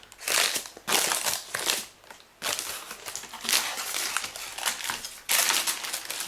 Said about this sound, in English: you can see how easily you could just remove this with the baking paper